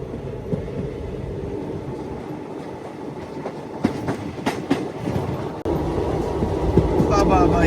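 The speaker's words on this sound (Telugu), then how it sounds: "వ్యాప్ 7 లోకోమోటివ్ లాలాగూడ అయితే పుల్ చేస్తుంది చార్మినార్ ఎక్స్ప్రెస్ని." WAP-7 electric locomotive pulling the Charminar Express, steady rolling rail rumble with rhythmic clickety-clack of wheels over joints, close and loud, growing busier toward the end with brief squeals.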